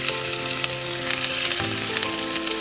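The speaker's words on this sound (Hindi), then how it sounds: "इसमें मैं ऐड करूंगी अदरक, लहसुन और हरी मिर्च।" Ginger, garlic and green chili sizzle in hot oil, a dense and steady crackling fry heard up close, with a few brief stirring knocks.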